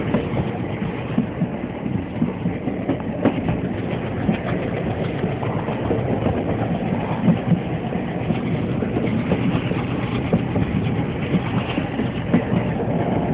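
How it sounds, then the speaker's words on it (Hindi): A passenger train on the Chunar–Barwadih line in the Mirzapur hills climbs a grade. Its engine drones in a steady, fairly loud rumble that continues without a break. "हमारी ट्रेन अब पहाड़ी पे चढ़ने के लिए तैयार है।"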